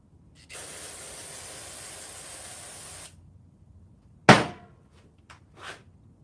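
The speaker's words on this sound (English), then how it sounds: "I'm going to spray this clean." Cleaner is sprayed from a spray can onto the clutch area of a TTR125LE motorcycle. A loud steady hiss runs about two and a half seconds, then a sharp knock follows, with two fainter bumps after it.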